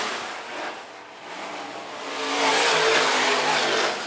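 IMCA modified race cars roar around a dirt track at Phillips County Raceway in a dense, continuous engine blare that swells and fades slightly as the pack passes, loud and steady.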